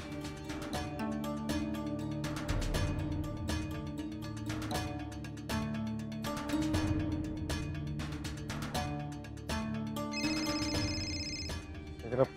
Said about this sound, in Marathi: जरा प्लीज फोन उचल यार.